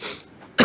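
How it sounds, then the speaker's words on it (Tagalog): A single short, sharp cough bursts out at the end after a faint breath, heard up close from a person on a live stream. "Naubo tuloy ako."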